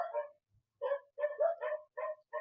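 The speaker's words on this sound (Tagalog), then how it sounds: "Kasi hirap naman na papasok tayo na maraming aso." Several dogs barking in quick, uneven bursts, fairly close and loud, with short gaps between volleys.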